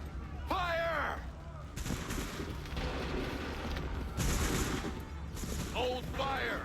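Soldiers fire a musket volley in Assassin's Creed 3, dense bursts of gunfire that roar over shouted commands and battle noise.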